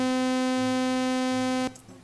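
A cat meow sample looped into a steady buzzy, saw-like drone with a strong low fundamental and many even overtones, holding unbroken for over a second and a half before cutting off abruptly into faint noise.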